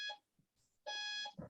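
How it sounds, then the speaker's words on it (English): An exercise interval timer sounds two loud electronic beeps during a Pilates and HIIT workout, each a steady high tone with a short lower blip between and after them, clear and alone. "So I'm going to put the timer on."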